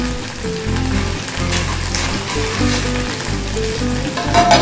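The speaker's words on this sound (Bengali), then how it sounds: "একটু ভেজে নিয়ে এবার ঢাকা দিয়ে দিচ্ছি।" Okra sizzles and fries steadily in very hot oil in a pan, a dense continuous crackle without pause.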